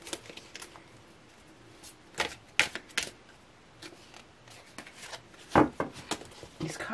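Tarot cards being shuffled by hand in a quiet room, with several brief crisp riffling bursts and clicks separated by softer shuffling, close and moderately loud.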